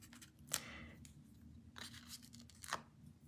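Paper backing being peeled off adhesive foam dimensionals for card making: a few quiet, short tearing rips and crinkles, spaced apart, over a faint low hum, with no talking.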